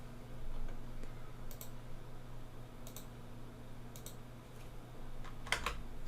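Faint, isolated key presses on a computer keyboard: a handful of sharp clicks spaced a second or so apart over a steady low hum in a quiet room.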